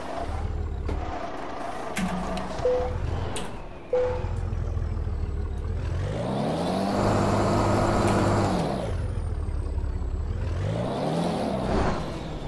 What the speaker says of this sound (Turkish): Araç düz yolda zor kalkıyor birinci viteste zaten ya